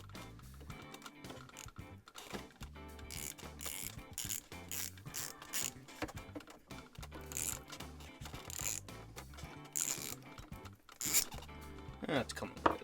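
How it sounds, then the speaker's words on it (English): A ratchet clicks in quick, uneven bursts as it loosens the 6mm side rod screws on an LGB Mikado model locomotive, sharp metallic pawl ticks close up against a faint background. "it is a 6mm. Put it on a ratchet here."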